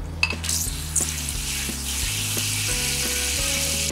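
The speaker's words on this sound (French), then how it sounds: "je vais arroser avec mon petit arrosoir comme ça. Ça fait un petit jet qui va bien" Water from a small watering can pours in a gentle, steady stream onto a freshly repotted pilea peperomioides, a continuous soft hiss with low tonal sounds beneath it.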